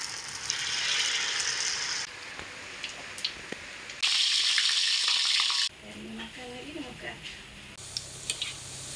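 Hot oil sizzling loudly in bursts as Malaysian kuih are fried, rising and dropping as pieces go in and are stirred, with occasional clinks of a utensil.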